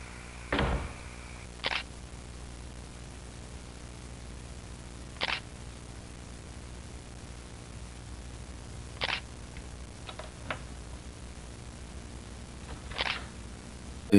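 Camera shutter clicks in a dark horror animation, five or six sharp isolated snaps spaced several seconds apart over a low steady hum, with no talk.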